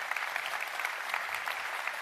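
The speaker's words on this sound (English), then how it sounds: "I want you to give both of them a round of applause." Brief burst of audience applause for two debaters at a crypto conference debate in London, steady dense clapping heard at moderate level with no talk over it.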